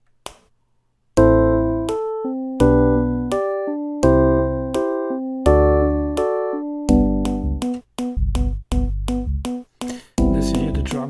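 Music plays back from audio production software in 9/8: bright synthetic chords struck in repeated blocks, then quicker staccato hits and percussive clicks, loud and alone without any voice.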